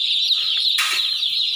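Young meat chickens newly arrived on a farm, giving a constant high-pitched chorus of cheeping close by, with a brief burst of rustling or flapping partway through.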